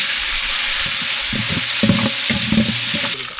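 Chana dal, curry leaves and dried red chillies frying in a pan, a loud steady sizzle with a few short tonal scraping stirs in the middle, then a drop in level near the end.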